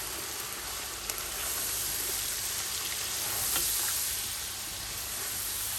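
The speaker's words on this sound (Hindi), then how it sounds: "इसको भी 3 से 4 मिनट भून लेते हैं अच्छी तरह।" Chicken fries with tomato, ginger and red chili for pulao, a steady, dense sizzle of hot oil with occasional stirring strokes, close and continuous, with no talking.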